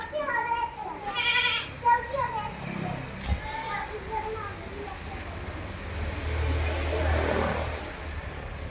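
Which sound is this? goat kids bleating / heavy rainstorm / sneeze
goat kids bleating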